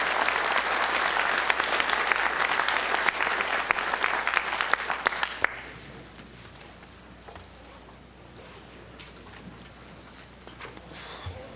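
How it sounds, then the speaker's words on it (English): An audience at a developer conference session claps in a dense burst for about five seconds, then the applause cuts off, leaving quiet room tone with a few stray sounds. "Everybody's clapping."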